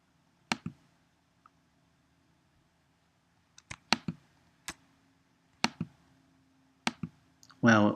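A computer mouse clicks in sharp, isolated taps: one early, then a quick cluster of several clicks in the middle and a few more spaced out toward the end, close and fairly crisp, with a short burst of other noise at the very end.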